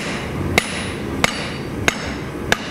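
Hammer forging a taper on a steel rapier blade, four sharp ringing blows spaced evenly about two-thirds of a second apart, close and loud over a low background hum.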